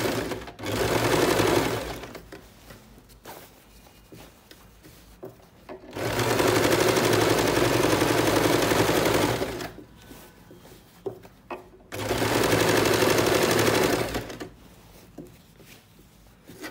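Sewing machine stitching a trouser waistband belt: three bursts of rapid, buzzing needle action, each several seconds long, separated by quieter pauses with small handling clicks, close and alone.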